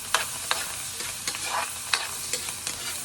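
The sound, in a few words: garlic and onion frying in a pan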